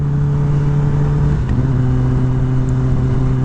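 A 2021 Kawasaki ZX-10R sport bike engine hums loudly and steadily while riding, with a slight pitch drop midway as the revs shift, no voices over it.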